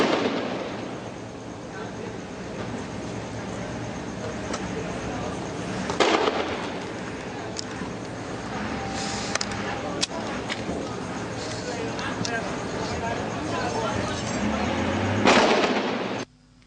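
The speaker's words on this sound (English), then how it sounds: "in the midst of the heavy gunfire" Rapid bursts of heavy gunfire during a security forces operation at roadblocks in Jamaica crackle over a noisy street scene, with louder sharp reports every few seconds and voices mixed in throughout.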